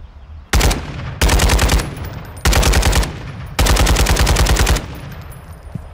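Automatic gunfire in the video game Modern Warfare II, four loud close bursts of rapid shots separated by short pauses, with no talking.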